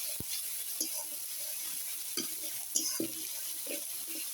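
Ginger, garlic and cumin paste is stirred in a cooking pan over a quiet sizzle, with scattered soft scrapes and knocks of the utensil against the pan.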